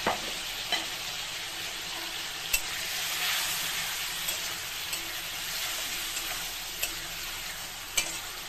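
A pan sizzles steadily after a splash of water and boiled potatoes are added, a continuous close hiss broken by occasional sharp taps of a stirring spoon.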